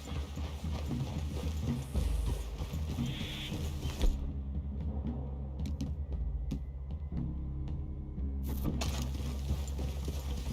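Horses' hooves clip-clopping at a walk in the video game Red Dead Redemption 2, a steady uneven patter under a low ambient rumble with a few sharper knocks, and no talk.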